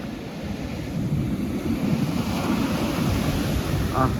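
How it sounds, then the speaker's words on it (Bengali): Waves rolling onto the beach at Digha with gusting wind buffeting the microphone, a steady wash of surf with no voices. "সুন্দর হাওয়া আর সাথে আওয়াজ ঢেউয়ের"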